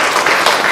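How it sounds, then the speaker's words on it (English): An audience at a talk gives a woman a round of applause, a short dense burst of many hands clapping together at close range with no voices over it. "Give this lady a round of applause"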